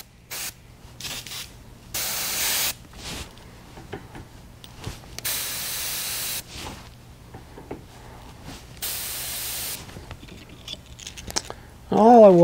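An airbrush sprays paint at turned-down low pressure for a firetiger vein pattern, in several separate hissing bursts of a second or so each, fairly close, with quiet pauses between them.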